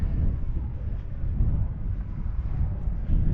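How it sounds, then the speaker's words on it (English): Low, steady wind rumbles and buffets across the open upper bridge deck of the cruise ship Sapphire Princess, a dull continuous roar without any talking. "Gonna be a little windy up here."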